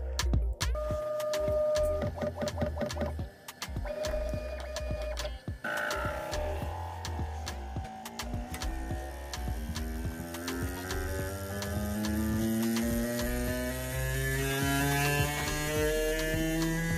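A Bambu Lab P1S 3D printer working through its initial self-test: stepper motors whir and rise in pitch, with rapid ticking clicks and a steady low hum, all fairly quiet and mechanical throughout.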